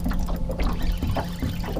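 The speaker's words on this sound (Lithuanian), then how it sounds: "Įjungiu variklį ant silpno greičio." A small outboard motor on an inflatable rubber boat runs steadily at low speed on autumn water, a continuous low hum with faint water noise, no talking.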